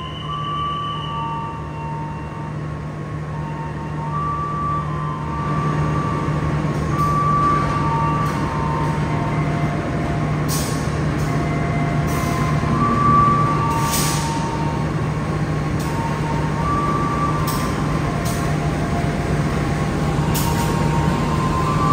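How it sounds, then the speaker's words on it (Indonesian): Bangunkarta passenger train from Pasar Senen bound for Jombang rolling slowly through a station on track 4, a steady continuous rumble with faint squeals and brake hiss, fairly close and alone without talk. "Yang akan melintas di jalur 4 adalah kereta api Bangunkarta dari Pasar Senen tujuan Jombang"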